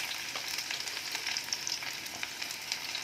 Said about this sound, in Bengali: আগে একটা পেঁয়াজ দিয়ে দিলাম।